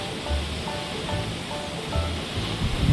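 Water pours out of a tunnel as a waterfall at Muktinath in Nepal, a continuous loud rushing roar that stays close and steady, with low rumbling surges.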